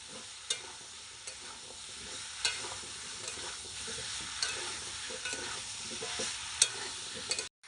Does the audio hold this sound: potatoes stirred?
yes